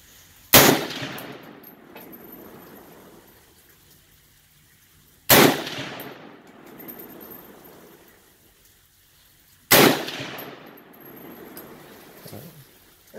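Three loud, sharp gunshots from a Bear Creek Arsenal rifle in 7.62x39, each cracking close by with a long rolling echo, spaced about four to five seconds apart at an outdoor range.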